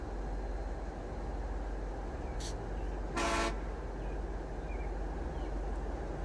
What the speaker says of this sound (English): Dude, you don't have to keep, like, honking your horn